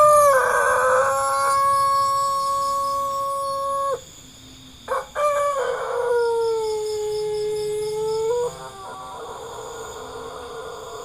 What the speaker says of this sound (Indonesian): Suara merdu ayam pelung yang biasa dijadikan ayam kontes bersahutan begitu indahnya